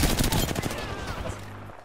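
Rapid automatic gunfire in the video game Apex Legends, a dense burst of loud, close shots that fades into a ringing tail within two seconds.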